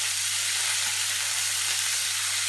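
Small pieces of food frying in a pan, turned partway through cooking, produce a loud, constant, close-up sizzle and hiss with no break and no voices.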